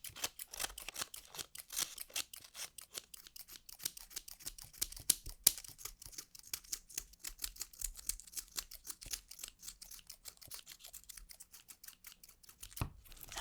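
Scissors cut paper cut to look like seaweed for a slime craft, giving a long run of quick, crisp, close snips at a fast, uneven rhythm with a louder snip near the end, and no talking.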